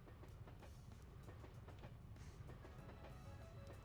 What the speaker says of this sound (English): Oh, we're taking the train back.